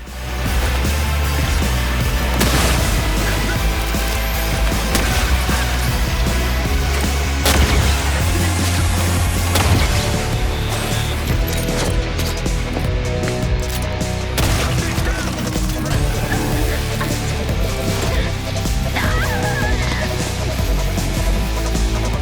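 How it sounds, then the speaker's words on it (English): Shock grenade explosions from the video game The Outer Worlds 2: loud, repeated blasts and crackling bursts buried in a dense, continuous mix of game sound and score, with no pauses. "I have lots of shock grenades that need chucking"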